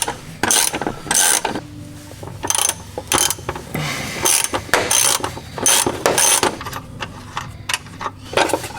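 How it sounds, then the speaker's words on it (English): Ratchet wrench clicking rapidly in short bursts while removing bolts from a bracket under a BMW E46, close and loud, with pauses and clanks between bursts. "all we need to do now is remove these bolts from this bracket here"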